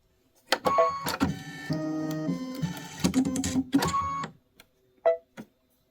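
An embroidery machine stitches a placement outline for a cart design on a bench pillow, whirring and buzzing in mechanical bursts with brief stops, close by and clear, then falling quiet apart from a couple of short clicks.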